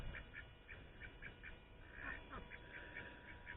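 Several ducks quack in a front-yard garden covered in vegetation, with short repeated calls in irregular bursts throughout, fairly faint and steady.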